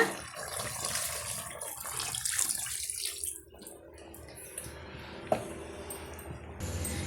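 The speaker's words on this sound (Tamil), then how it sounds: "இப்போ நான் இந்த ஒரு கப் அளவுக்கு மட்டும் நான் தண்ணி வந்து ஆட் பண்ணிக்கிறேங்க" Water poured into soaked rice while making Ambur chicken biryani: a soft, quiet splashing trickle that thins out partway through, with a small clink near the end.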